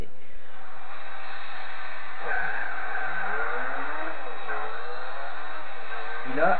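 A race car engine in Gran Turismo 4 climbs through rising, sweeping revs as it accelerates, with someone talking over the game sound.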